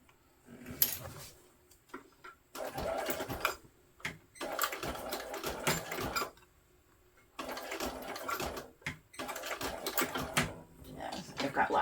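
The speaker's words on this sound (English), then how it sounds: "I can go and just sew this right here." Sewing machine stitching a bag strap for a travel bag, running in several close, loud bursts of rapid stitching separated by short pauses.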